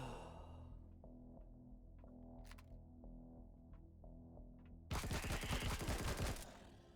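Gunfire in the video game Empyrion Galactic Survival, a sudden loud burst of rapid shots near the end after a quiet stretch of low humming ambience.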